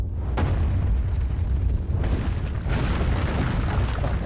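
A cannon blown apart in the video game Alice: Madness Returns: a heavy booming blast followed by a second burst, then a sustained, loud rumbling roar of debris and fire that carries on without pause.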